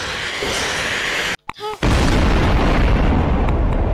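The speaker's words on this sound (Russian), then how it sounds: "этот взрыв был мега большой" A huge bomb blast in Garry's Mod erupts as a loud, dense roar after a brief near-silence, then rumbles on without fading. Speech is faint or absent.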